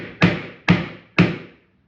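A hammer taps parts into a Spy Hunter arcade cabinet during restoration: three sharp, close strikes at an even pace, each ringing briefly before the next, with no talk.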